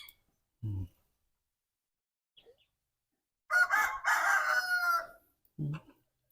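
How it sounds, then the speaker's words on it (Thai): A rooster crows once, loud and drawn out, with a couple of short clucks before and after in an otherwise quiet setting. "มีเสียงรบกวนเสียงแสก เสียงไก่เสียงกา"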